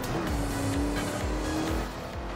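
Several cars drive in Forza Horizon 4, a racing video game with a Viper, a BMW and muscle cars, their engines roaring loud and continuous with rhythmic revving pulses and some tire squeal, with no voices.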